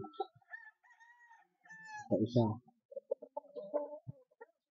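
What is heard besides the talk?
chickens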